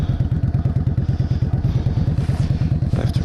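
A motorcycle idles and pulls off slowly during low-speed practice manoeuvres for the MOST test, its engine thumping in a steady, even rhythm close by, with slight clatter and wind noise and no voice.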